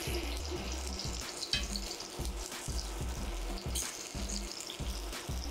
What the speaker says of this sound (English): we're gonna toast up these tomatoes a little bit